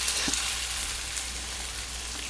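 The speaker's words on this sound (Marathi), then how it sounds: "मी शॅलो फ्राय करते" Small raw banana cutlets shallow frying in hot oil in a pan: a steady, dense sizzle that fills the short stretch at an even, moderate level, close by and with no talk.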